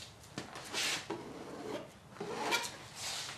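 Soft, rasping strokes of a scraper drawing epoxy along the surface during construction of the Nymph boat, several slow passes close by and fairly quiet.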